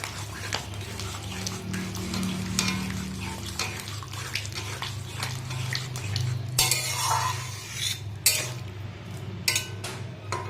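A spoon works through potato and pointed gourd curry with shrimp in a pan, giving close scrapes and metallic clinks over a low steady hum, with a louder burst of scraping near the end.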